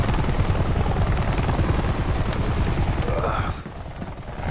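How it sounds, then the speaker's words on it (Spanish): A helicopter in the video game Army of Two: The Devil's Cartel makes a loud, close, rapid rhythmic blade chop that drops off abruptly near the end, leaving a quieter rumble. "Súbeme a ese helicóptero."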